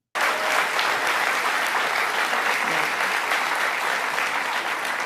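A large audience applauds at Vice President Kamala Harris's political speech on her economic agenda, a dense, even clapping that begins abruptly and holds steady and loud for several seconds.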